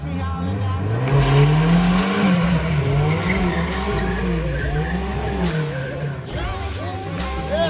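Car tires squeal and skid while the engine revs hard, a continuous loud screech of burning rubber with wavering pitch over a low engine roar, voices faintly mixed in.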